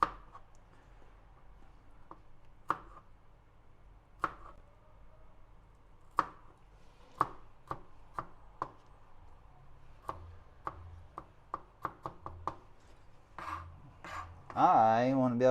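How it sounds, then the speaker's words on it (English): Knife chopping garlic on a cutting board, irregular sharp taps that come slowly at first and then speed into a quicker burst, close up, with a brief voice near the end. "So now I'm cutting up the garlic"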